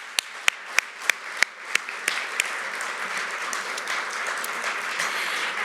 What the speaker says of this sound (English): another round of applause for everyone in the room that helped us get here